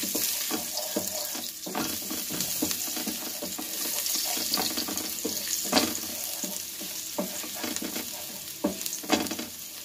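Garlic sizzling in hot olive oil in a pan for a pork chop dish, a steady loud frying hiss broken by clattering stirs of a utensil at irregular intervals.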